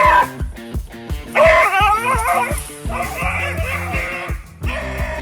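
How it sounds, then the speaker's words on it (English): Excited yapping and whining from a dog, short barks and yelps in quick irregular bursts, fairly close, with a tense musical backing underneath. "This dog's bark is definitely worse than its bite"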